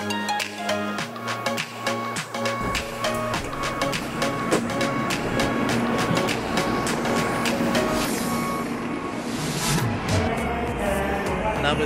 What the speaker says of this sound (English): the bullet train or Shinkansen, whatever you want to call it, that was the journey